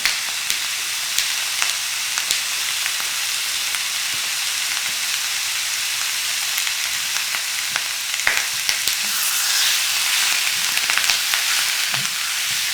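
Pork belly slices (liempo) frying in a hot pan for Bisaya-style humba, a dense, bright, continuous sizzle with scattered pops and crackles, close and steady throughout, with no talking.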